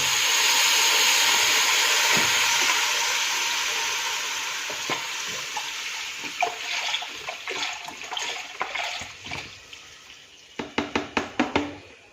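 Milk heating in a pot on a stove for vermicelli starts with a loud, steady hiss and bubbling that slowly fades. A run of sharp utensil taps and clinks from stirring follows near the end.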